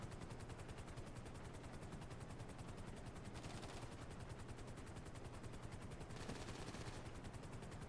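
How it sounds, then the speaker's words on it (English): Rapid automatic gunfire from a helicopter in Grand Theft Auto V Online rattles in fast, even bursts over a whirring rotor drone and goes on throughout. "I thought I was shooting with the helicopter for a second."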